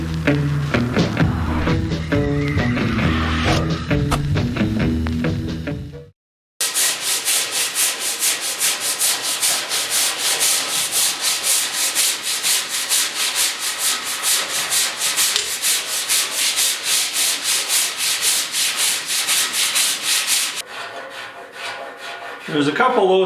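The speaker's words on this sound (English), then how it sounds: "We've got a little bit more sanding to do" Body filler being sanded on a 1969 Ford Bronco bed panel: steady, loud abrasive rubbing that runs continuously for about fourteen seconds after a brief pause, with a short stretch of other noise at the start.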